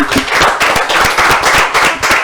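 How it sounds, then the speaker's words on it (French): A studio audience at a Cameroonian afternoon talk show claps loudly for a group of students, a dense, steady burst of many hands filling the whole short stretch. "je vous demande de les applaudir très fort"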